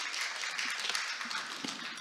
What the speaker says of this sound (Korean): 여러분 큰 박수 보내주십시오